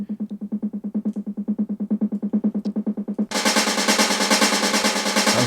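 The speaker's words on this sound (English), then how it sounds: "it has some really cool snare rises" A snare rise sample from a Toolroom sample pack: rapid snare hits accelerating in a steady roll for about three seconds, then bursting into a loud, dense wash of white noise that sustains to the end.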